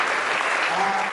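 Church congregation applauding and cheering for the Lord in a steady, dense wash of clapping that fills the whole moment, loud and continuous.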